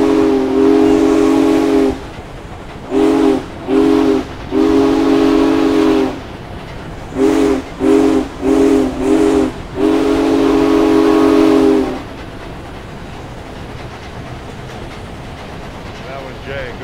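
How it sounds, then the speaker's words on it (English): Union Pacific Big Boy steam locomotive whistle blown in a rhythmic sequence of long and short blasts, loud and close over a constant background rumble, ending in steady hiss. "Are you ready to blow the whistle, Jay?"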